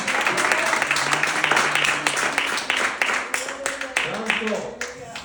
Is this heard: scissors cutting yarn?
no